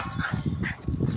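A dog on a walk through a suburban neighbourhood whines and yips in short repeated bursts, close to the microphone, over a background of outdoor street noise.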